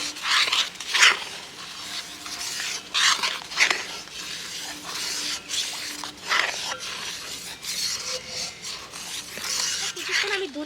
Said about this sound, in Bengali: দুধটাকে জাল দিয়ে এইভাবে অনবরত নেড়েছি